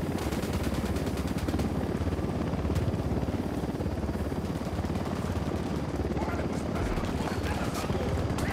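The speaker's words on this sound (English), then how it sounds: "Helicopter, get down." Helicopter rotor thumping steadily throughout a Ghost Recon Wildlands firefight, loud and close, with rapid gunfire bursts mixed in and voices calling out over the action.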